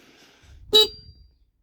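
A single short electronic horn beep from a 2024 Mondial E-Mon Rigby electric scooter, loud and close, with a faint low rumble around it.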